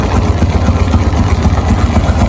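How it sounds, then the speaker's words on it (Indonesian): A Honda motorcycle engine idles close by during routine servicing, a loud, steady low throb with an even pulsing rhythm throughout and no talk. "langkah pertama kita nyalakan kunci kontak starter"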